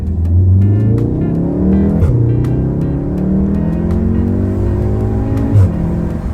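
A Volkswagen Golf R (Mk7) engine revs hard and loud, pitch climbing steadily, with brief drops at each gear change before it pulls up again.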